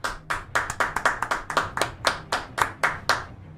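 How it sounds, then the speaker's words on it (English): About fourteen crisp hand claps, close and loud, in an uneven rhythm that quickens in the middle and then slows toward the end, heard alone with no voices. "Please clap."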